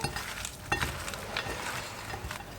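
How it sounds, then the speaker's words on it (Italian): Sliced zucchini seasoned with salt, oregano and a drizzle of oil is stirred quickly in a bowl, giving a soft, wet, continuous shuffling with a few faint clicks. "Diamo una mescolata veloce"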